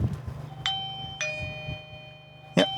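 A newly installed Eufy video doorbell chime rings three times as bright, tonal electronic dings over a low background hum, each tone fading slowly, heard from nearby.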